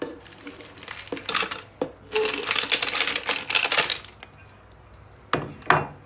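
Ice cubes clatter into a glass of mint lemonade, a run of close, hard knocking clinks in bursts, with a couple of final drops near the end.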